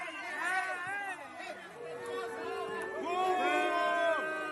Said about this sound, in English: This angry mob is here to greet me.